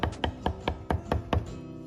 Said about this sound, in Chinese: 最后再切成小丁，感觉偏粗的可以稍微剁细一点